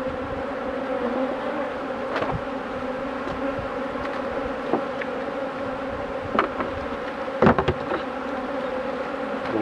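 Honeybees buzzing around beehive supers while robbing honey, a continuous steady hum of many insects with individual bees droning past close by at moments, no voices.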